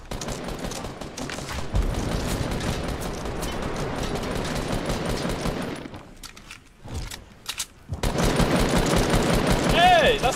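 Rapid gunfire from a Fortnite match, pistol shots in dense repeated bursts, loud and close, running for most of the stretch with a brief lull before the shooting resumes.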